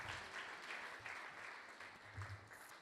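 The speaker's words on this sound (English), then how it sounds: "Let's give another round of applause to Ramaji Prabhu for that wonderful class." A faint, brief round of applause from a gathered audience after a devotional class, soft scattered clapping heard at a distance for a few seconds.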